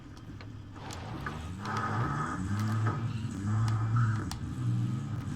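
A truck engine in the Call of Duty: Warzone video game hums steadily in the foreground, with its revving rising and falling in surges. Scattered clicks and thuds overlap it.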